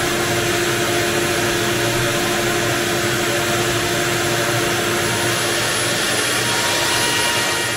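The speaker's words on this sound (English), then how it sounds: "This will suck as I mix, drop the mortar into the bucket. This will suck the dust up into the vacuum." A shop vacuum fitted with a whale-tail dust collector roars steadily and loudly while mortar is mixed indoors, a continuous broadband whine with no pauses or talk.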